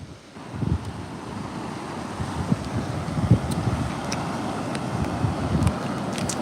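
Wind blows across an agate-hunting beach, buffeting the microphone in a steady roar with small gusts and a soft wash of surf underneath, and nobody speaks.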